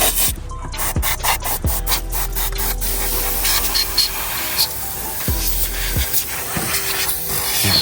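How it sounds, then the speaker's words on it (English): Cleaner is sprayed onto a dirty engine of a BMW 440i during injector and high-pressure fuel pump work, giving a few sharp hissing bursts and rubbing sounds between them, close by, with no talking. "I gotta spray this down again."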